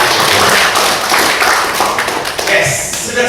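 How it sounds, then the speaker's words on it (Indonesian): Group applause at an indoor trainer workshop, dense overlapping hand claps that hold loud and then taper slightly, with voices mixed in underneath. "Tepuk tangan dulu untuk kita semua."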